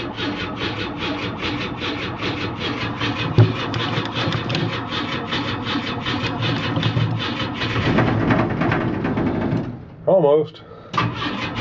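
Jeep DJ-5L cold engine cranking with a steady rhythmic churn for several seconds, then a brief catch and stutter near the end, loud and close, with someone speaking briefly over it.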